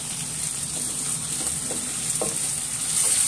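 Green chilies and peanuts for poha roast in a hot pan, giving a steady close sizzle and frying hiss with faint stirring scrapes throughout, and no one speaks.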